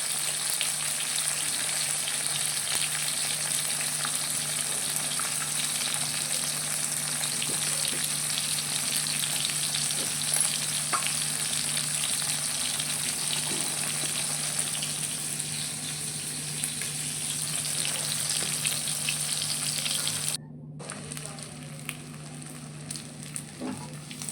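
Two pieces of rohu fish fry in oil with a continuous, even crackling sizzle that holds steady for a long stretch, then drops slightly quieter near the end.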